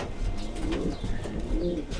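Racing pigeons coo steadily inside a loft, soft overlapping throaty calls repeating close by with a constant low shuffle of the flock and no talking.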